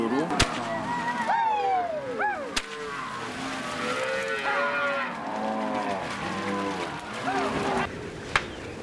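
Cows mooing during a livestock drive, several drawn-out moos from different animals at varying distances over a constant outdoor background, with a few sharp knocks and voices mixed in.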